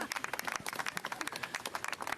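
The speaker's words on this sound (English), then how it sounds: "Please give her some more applause" Audience applause at a New York City announcement event honoring women leaders with statues: steady, moderately distant clapping from a crowd, with dense, even rhythm and no speech.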